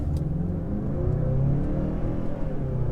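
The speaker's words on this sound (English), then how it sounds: "We'll just do a quick 0 to 60. We'll power out of this." A turbocharged 2020 Mazda CX-5 engine accelerating hard from a standstill toward 60 mph, with a steady, loud, low rumble and a rising hum heard from inside the cabin.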